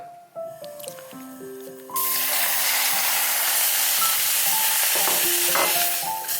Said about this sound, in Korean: 이제 마지막으로 된장 양념을 한 시래기만 볶으면 끝나는 거거든요